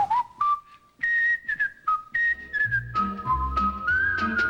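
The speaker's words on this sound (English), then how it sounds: "the fact that you can remember that theme song and you can whistle it like that" Someone whistles the theme song from The Andy Griffith Show, a clear, bright melody carried alone and near, with low musical tones coming in under the tune in the second half.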